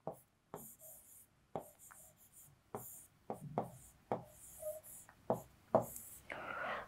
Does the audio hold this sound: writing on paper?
yes